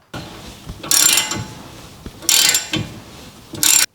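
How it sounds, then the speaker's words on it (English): Cordless electric ratchet spinning off bolts on a Nissan Pathfinder front brake caliper: three loud, short whirring bursts, each about half a second long, with quieter mechanical clicks and handling noise between them. "Something that's going to make your garage DIY projects a lot easier is one of these cordless electric ratchets."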